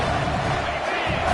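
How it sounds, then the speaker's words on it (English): A football stadium crowd roars behind the defense on third down, a dense continuous wash of cheering, loud and steady, with no clear talk over it. "Decibels rising as the crowd gets behind this defense on 3rd down."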